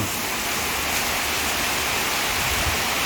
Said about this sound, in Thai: ฝนแรง